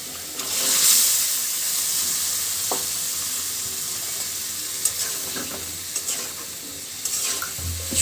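Cut okra added to a pan of fried spices, sizzling loudly and steadily with occasional stirring scrapes and clacks close by.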